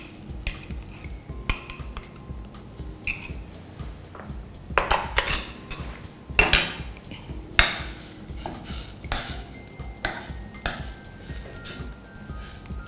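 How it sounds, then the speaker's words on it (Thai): A metal utensil stirs pounded fermented soybean paste into boiling coconut milk in a pot for a Thai soybean relish. Irregular close clinks and scrapes against the pot sound over a faint simmer, with no voices. "เราก็จะนำตัวเต้าเจี้ยวที่เราโขกเอาไว้แล้วเนี่ยใส่ลงไปนะคะละลายเขากับกะทินะคะ"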